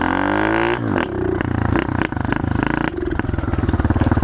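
Pit bike motorcycle engine running while being ridden, a loud close buzzing motor that dips briefly then revs and surges with rapid throttle changes, with no talk over it.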